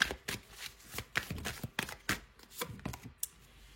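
Oracle cards being shuffled and drawn by hand, a quick run of crisp riffling flicks and soft slaps in an irregular rhythm, close and fairly quiet with no talking over it.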